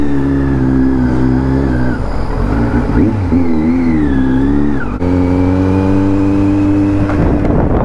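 Kawasaki Z900 superbike fitted with an Arrow exhaust, revving loudly up and down in repeated bursts close by, the engine tone rising and falling, with a voice briefly heard.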